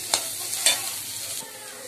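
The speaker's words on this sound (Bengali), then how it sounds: "সুজিটা ভালো করে একটু ভেজে নেব" Semolina fries in a pan with a soft steady sizzle, punctuated by two sharp scraping clatters of a spatula stirring early on, then settling into a quieter hiss.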